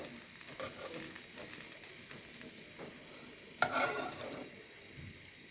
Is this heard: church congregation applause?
no